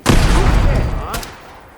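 A cannon fires in Fallout 4, a single loud close boom with a rumbling tail that decays over about a second, followed by a brief crack.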